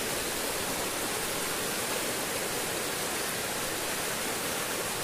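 Water rushes steadily while someone wades through a stream, a dense continuous splashing and flowing wash that stays loud and even throughout with no voices.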